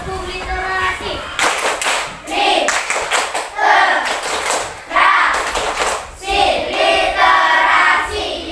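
Schoolchildren perform a rhythmic literacy clapping chant in class, sharp loud bursts of clapping in patterned groups alternating with children's chanting voices.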